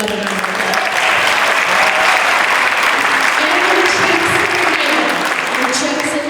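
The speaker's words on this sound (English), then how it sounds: "Let's give MC Laure Quinlivan and Ed Mathis another round of applause." A Rotary club meeting audience gives a sustained round of applause for the emcees, dense steady clapping filling the room throughout with a faint murmur of voices underneath.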